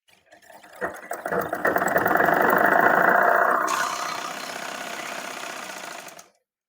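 A sewing machine runs a continuous burst of stitching along a folded petticoat hem, starting abruptly, whirring loud and close for several seconds, then easing slightly before stopping.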